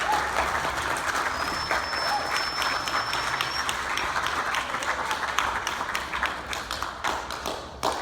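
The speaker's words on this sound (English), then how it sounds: "can we give our parents a round of applause for all their hard work?" Students applaud their parents at an eighth-grade middle school band end-of-year concert, a dense, steady burst of many hands clapping that fills the hall for about eight seconds and thins slightly at the end.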